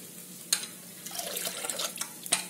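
Water pours into dosa batter in a kitchen, making soft splashing and trickling with a few sharper clinks, fairly quiet and close, and no one talks.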